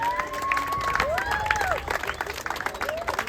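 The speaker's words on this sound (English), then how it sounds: "A big round of applause." Clapping and cheering from a crowd honoring car owners at an outdoor car show in Edina, Minnesota, fairly quiet, with voices and chatter mixed throughout.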